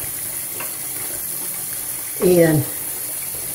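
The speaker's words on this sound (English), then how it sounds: "while you're getting that hot water in that sink" Hot water runs steadily from a tap into a sink, a constant hiss under a man's brief speech.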